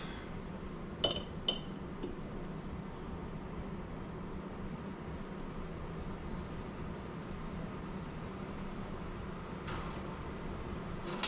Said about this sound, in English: I'm going to start sterilizing the jars.